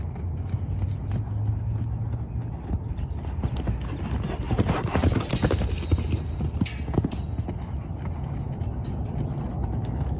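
Hooves clip-clop steadily on the ground, a continuous rhythmic trot at moderate distance, with faint background noise and no talking.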